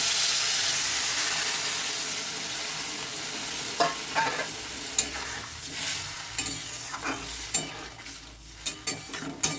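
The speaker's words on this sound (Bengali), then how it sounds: "মশলাটা আমার কষানো হয়ে গেছে এবার এর মধ্যে আমি পরিমাণ মতো জল দিয়ে দিচ্ছি" Water is poured onto fried spice paste in a pan, setting off a loud hissing sizzle that eases, then a string of close scraping and clanking stir strokes follows at an uneven pace.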